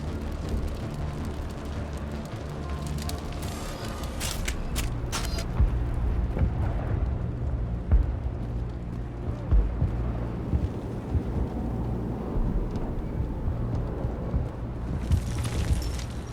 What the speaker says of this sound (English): How is a woman supposed to think with guns going off all around?